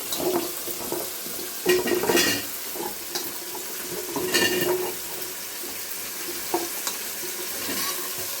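Drumsticks and okra added with cut tomatoes frying in a pan for sambar, a soft steady sizzle broken by occasional clinks and scraping stirs, close and moderately loud, no talking.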